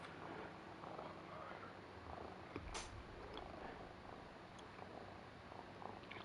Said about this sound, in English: Apologies for the cat purring.